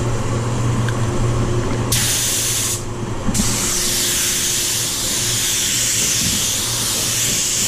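An air blower dries fresh paint on a Range Rover Velar in a spray booth. It gives a loud, close, broadband hiss in two bursts with a short pause between, over a steady low hum, with no talking.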